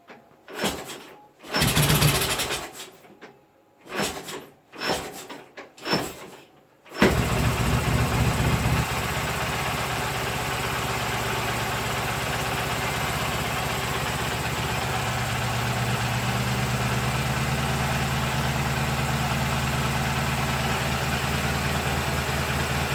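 A restored K750M motorcycle engine, started after 26 years, cranks in several uneven bursts, then catches and settles into a continuous loud, rough idle with one cylinder misfiring.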